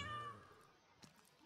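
A cat meows in Minecraft, a single short call near the start that fades into quieter game background.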